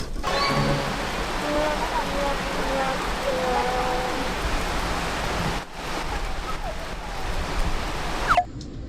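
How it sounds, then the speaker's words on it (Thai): Steady rain pours down over a mountain campsite in Tak province, a dense, even hiss that fills the scene up close, with a brief break partway through. "ตอนนี้ฝนเริ่ม หยุดลงบ้างแล้ว แต่ฟ้ายังไม่หยุดคำรามเลยครับ"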